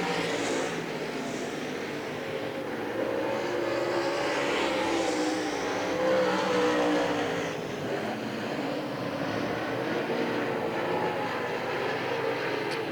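Limited stock race cars lap a dirt oval at Hagerstown Speedway during a heat race, a continuous droning engine roar that swells and fades as the pack passes, heard at a distance.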